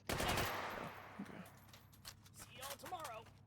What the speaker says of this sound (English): chasing them down with machine gun